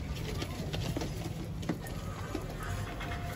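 Saharanpuri pigeons shuffle and flutter nearby with soft pattering and faint cooing against a steady background noise.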